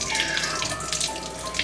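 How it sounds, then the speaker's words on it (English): Sanitizing solution for brewing equipment pours out steadily, a continuous bright liquid splash like a running tap, close and unbroken with no talk. "I'm going to start pouring out this sanitizing solution."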